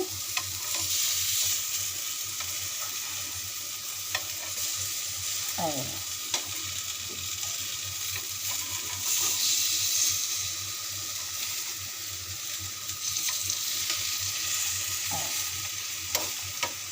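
Slices of ash gourd frying in a pan give a steady, close sizzle that runs throughout, with a few faint clinks and scrapes as pieces are turned.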